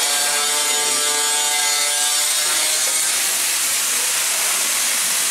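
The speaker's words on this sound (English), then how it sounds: "That's a power planer" A power planer runs over wood in a steady, loud, continuous shaving roar that holds without pause, with its rasping tone shifting slightly partway through.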